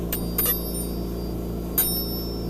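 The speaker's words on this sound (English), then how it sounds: "It has such a chime quality." A struck piece of quartz glass rings out in three clear, bell-like chimes, two close together near the start and one more later, each with a bright sustained tone that decays slowly over a quiet background.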